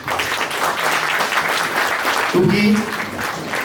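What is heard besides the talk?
audience applause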